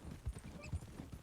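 Horse hooves clip-clop at a steady walking pace in Red Dead Redemption 2, a few soft dull thuds repeating in rhythm, fairly faint and close.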